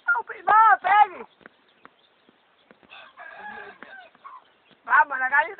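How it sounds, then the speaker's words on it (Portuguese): A chicken gives a few loud squawking clucks, goes quiet amid faint shuffling and murmuring, then bursts into another squawk near the end. "a galinha tá falando aí"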